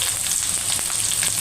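Chopped onion and green chillies fry in a pan with a steady, close hiss of sizzling oil and faint stirring crackles, with no voices.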